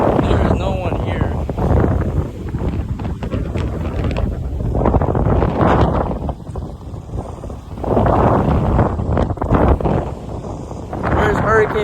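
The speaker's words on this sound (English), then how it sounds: "it's hella windy out here." Strong hurricane wind from Hurricane Milton buffets an outdoor microphone in loud, sustained roaring gusts that swell and ease, with someone talking over the noise at times.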